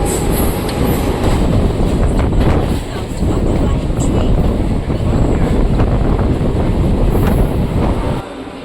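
A Mumbai local train runs on the suburban line between Andheri and Goregaon, its steady loud rumble and rattle of carriages carrying on throughout, heard from on board with faint voices in the background.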